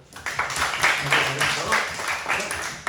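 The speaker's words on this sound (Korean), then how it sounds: "박수 한번 보내줘" A group of students at a weekend camp lecture gives a short burst of brisk clapping, close and fairly loud, lasting under three seconds.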